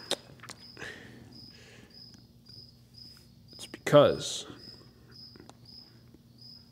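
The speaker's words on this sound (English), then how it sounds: "If you're wondering about the crickets" Crickets chirp in steady, evenly spaced pulses through a quiet night while a person speaks briefly and a louder rustle passes close by.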